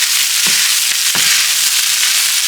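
Cooked rice frying in a pan for fried rice, giving a loud continuous sizzle with a couple of brief stirring scrapes, no talk.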